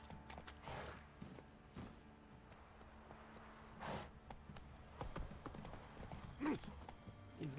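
Horse hoofbeats clip-clop steadily as the horse Roach gallops in The Witcher 3, a moderately loud repeating rhythm with an occasional snort or whinny over game ambience.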